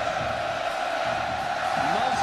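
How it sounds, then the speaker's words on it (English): Large crowd roaring steadily at a college football game between Texas and North Texas in Austin, a dense, continuous wash of cheering and shouting that swells slightly toward the end. "Texas electrifies this big crowd here in Austin"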